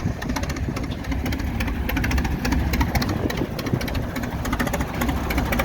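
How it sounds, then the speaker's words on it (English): An Allis Chalmers E60 power unit engine, used around 1948, runs steadily at a threshing show, a dense rhythmic chugging idle with rapid regular firing pulses and a clattery mechanical edge, close and constant. "It's a Allis Chalmers power unit E60"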